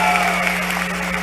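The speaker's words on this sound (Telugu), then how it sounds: "ఇతర కళాకారులకు కూడా గట్టిగా ఒకసారి చప్పట్లతో వారికి అభినందనలు చెప్పాలని కోరుతా ఉన్నా" An audience applauds at a political celebration for a state formation day in Dallas, a short burst of dense, steady clapping under a continuous hum from the sound system.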